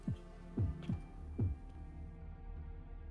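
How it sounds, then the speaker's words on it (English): A castle in Fate/Grand Order gives off a deep heartbeat-like throbbing, low thumps in a lub-dub rhythm, two pairs of beats over a steady low hum, moderately loud and alone. "Is it just me, or does it sound like the castle has a heartbeat?"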